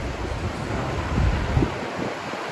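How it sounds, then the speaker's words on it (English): Takkakaw Falls in Yoho, British Columbia, with water crashing down the cliff as a steady, loud, broadband roar, mixed with wind buffeting the microphone and no voices. "See the water crashing down through here."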